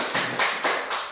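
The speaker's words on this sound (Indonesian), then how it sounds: "Ya, tepuk tangan dulu." Classroom clapping comes as four evenly spaced, sharp claps of a single rhythmic group clap, close and fairly loud with nothing else underneath.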